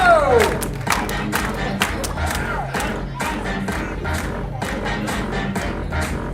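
Cheering and clapping audience at a morning improv match, crowd noise dense and steady with scattered sharp claps and whoops throughout, loud and close.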